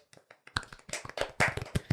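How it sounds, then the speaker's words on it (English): Applause for a newly married couple breaks out in a lively room, starting as scattered claps and swelling into a dense, loud round of clapping mixed with cheering voices. "Round of applause."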